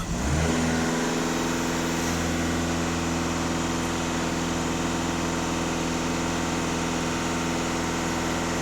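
A Skoda TDI EA288 diesel engine rises quickly then holds at steady elevated revs, a loud, close, continuous drone with strong harmonic tones and no talking.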